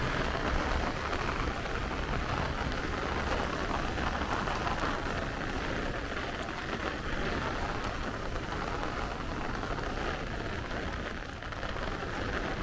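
Heavy rain pours down on the streets of Brooklyn between Bath Beach and Coney Island, a dense, continuous hiss of drops hitting pavement, loud and close with no voices.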